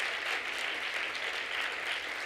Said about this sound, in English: let's hear a loud and thumping round of applause